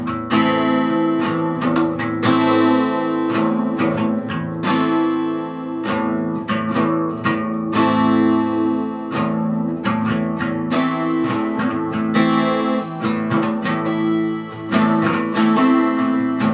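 Guitar strummed through the chords of a song in a steady down-up pattern, close and loud, with dense repeated strokes and brief pauses, no talking.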